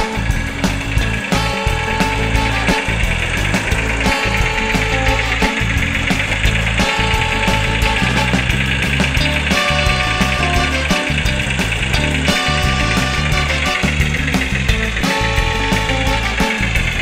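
Gauge 1 radio-controlled Class 03 model shunting locomotive with a sound unit, playing a loud, continuous diesel engine rumble with rhythmic pulsing and layered mechanical tones, close and steady.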